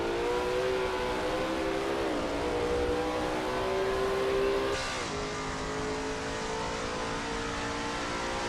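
Engine of a Lola T70 MkII Spyder race car in a racing game at Watkins Glen, a close, loud sustained drone that dips, climbs, then drops sharply as the car lifts off and shifts.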